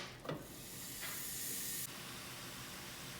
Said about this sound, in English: Now we cook the meat.